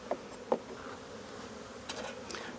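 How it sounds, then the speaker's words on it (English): Honey bees swarm thickly in an open hive during a Demaree split, a dense steady buzzing hum close by, with a few brief knocks and scrapes of hive frames over it. "Ton of bees."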